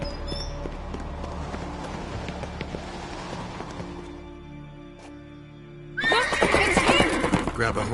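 A horse in a video game gives a loud whinny over hoofbeats and background score, then lets out a sharper neigh after a brief lull.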